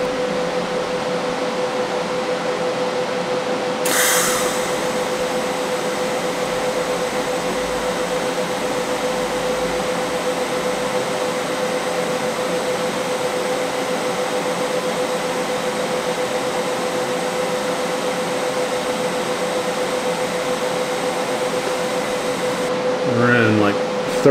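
Pulse TIG welding on stainless steel with a PrimeWeld 225 in a fab shop, giving a steady hum and buzz that runs nearly unbroken. A brief crackle comes near the start and again near the end.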